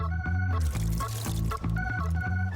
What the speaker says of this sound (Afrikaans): Nou gaan ek jou met water vul.